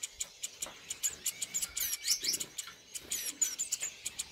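Star finch chicks in a nest, a rapid series of thin, high chirps and squeaks in quick irregular bursts, faint and close by.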